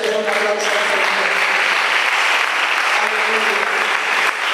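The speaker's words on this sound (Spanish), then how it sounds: "denle un aplauso al Señor." A church congregation bursts into steady, dense applause that fills the room and holds evenly throughout, with faint tonal music or voices beneath the clapping.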